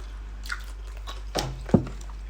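Crispy fried pork with garlic and pepper is bitten and chewed up close: a few separate crunchy bites spaced through a quiet room, the last one the loudest, with no talking.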